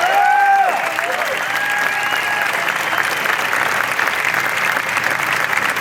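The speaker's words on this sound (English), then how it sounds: "So give yourself a round of applause" A large crowd at a pro-life protest in Sydney breaks into sustained applause, a broad, even roar of clapping with some cheering, after a voice fades out at the start.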